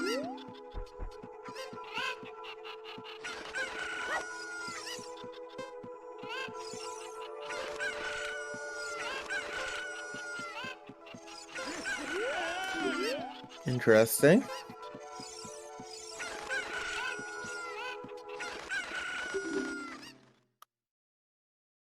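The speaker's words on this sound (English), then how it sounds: "we are seeing chickens on both sides, different chickens" Different kinds of chickens clucking and crowing in a video game tournament match, their calls repeating over steady game music and sound effects while people talk over them.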